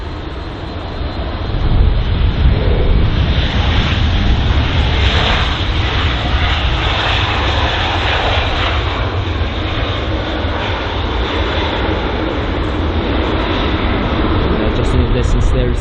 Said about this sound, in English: the Aer Lingus A320 on departure from runway 27 left